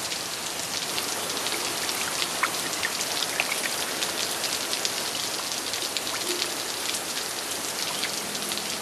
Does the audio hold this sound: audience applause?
no